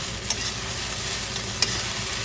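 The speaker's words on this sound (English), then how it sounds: "I'm adding the balance half of the peanut powder. I'm just going to give it a good mix." Sabudana khichdi with potatoes and peanut powder is stirred in a cast iron pan, a steady soft sizzle with two sharp scrapes of the spoon against the pan.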